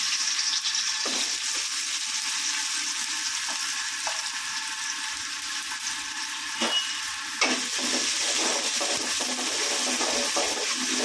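Onions, garlic, ginger and green chillies sauté in a pan for a pumpkin kuzhambu, giving a steady close sizzle throughout with occasional scrapes and clinks of stirring and no talk.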